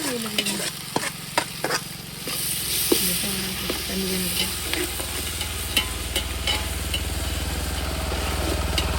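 Tomatoes dropped into a hot oiled pan with ginger and garlic for a village meat feast, sizzling loudly and steadily with scraping stirs and clinks throughout, no talk.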